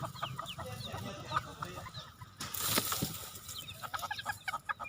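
Chickens cluck repeatedly nearby in short bursts, with a brief louder squawk midway and more clucking after.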